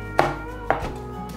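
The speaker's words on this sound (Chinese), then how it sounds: "把红甜椒切小丁" A knife dices red bell pepper on a cutting board, two sharp close chops about half a second apart followed by a softer knock, with no talk.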